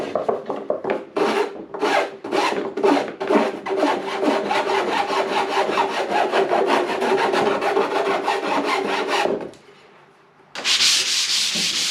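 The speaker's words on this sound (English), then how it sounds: "I cut on the waist side of the line so I can dress it with my" A hand file dresses the rough jigsaw-cut edge of a hardboard panel in a series of close, rhythmic rasping strokes, followed by a brief pause and a louder burst of scraping.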